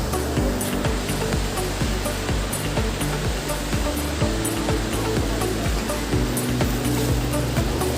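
Steady roar of surf washing onto a shore, continuous broadband wash with low rumbling swells throughout, no voices.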